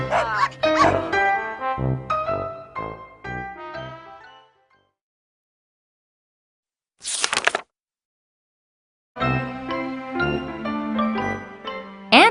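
Several dogs barking and yipping up close in quick excited bursts, then a pause with one short sharp yelp before the barking resumes.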